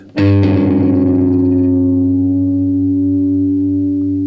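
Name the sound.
guitar harmonics during tuning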